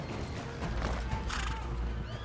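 Horse hooves clip-clop rapidly nearby as a horse neighs and whinnies, loud and busy in a short burst, with a voice shouting faintly underneath.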